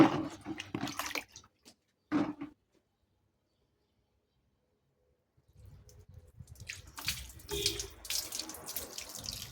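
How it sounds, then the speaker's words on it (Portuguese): Water from a tap splashes steadily while a dog is rinsed during a bath, first in short spurts, then after a silent pause a continuous running, splashing flow; no voices are heard. "Vamos enxaguar mais um pouco. Só mais um enxágue."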